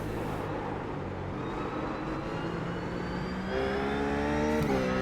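A RUF race car in iRacing at Zandvoort brakes with the engine note dropping through downshifts, then accelerates hard, a loud rising whine climbing through the gears up close under constant road noise.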